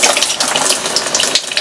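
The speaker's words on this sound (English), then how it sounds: "all I do is I just kind of just take some water and just kind of push it in," Water poured by hand onto the moss bed of a mounted staghorn fern, a loud, close, continuous splashing and trickling soak with no talking over it.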